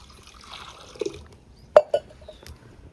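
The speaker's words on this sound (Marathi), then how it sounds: "तर आता पाणी उकळायला टाकलंय आम्ही 2 तांबे." Water is poured from a small copper vessel into a pot on a wood-fired clay stove. There are a few brief splashes and clinks, close but fairly quiet, over a low background.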